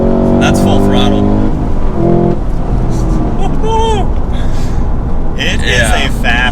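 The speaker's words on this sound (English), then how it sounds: "let the supercharger, work through the revs. That's full throttle." A supercharged Cadillac CT5-V Blackwing sedan engine of almost 700 horsepower roars loudly and continuously at full throttle, its pitch sweeping through the revs, while people talk over it.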